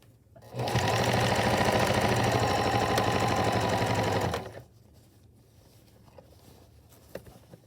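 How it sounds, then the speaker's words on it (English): Sewing machine stitching a cloth face mask with a pocket and elastic bands, a steady loud whirring run of fast stitches for about four seconds that stops abruptly, leaving quiet room tone. "Sew it, back stitch, sew down."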